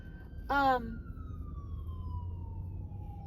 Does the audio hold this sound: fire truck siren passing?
yes